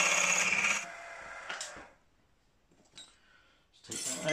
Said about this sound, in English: I'm just going to drill down through there so it breaks out through this first hole I drilled here.